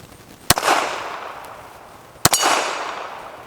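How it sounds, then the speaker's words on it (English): Two sharp shots from a Beretta 1934 pistol ring out about 1.7 seconds apart outdoors at a steel plate rack, each crack followed by a brief decaying echo, with no talking. "Let's do a little more shooting with this thing. Let's go down our plate rack and see how we can do."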